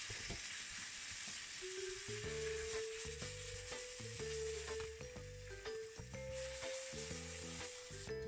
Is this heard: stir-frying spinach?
yes